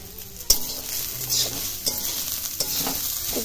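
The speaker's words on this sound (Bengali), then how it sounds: "পেঁয়াজ কালিটা আমার দেয়া হয়ে গেছে, একটু ভেজে নিই" Chopped onions frying in a pan for egg chowmein, a close crackling sizzle punctuated by several sharp metallic taps and scrapes of a utensil against the pan.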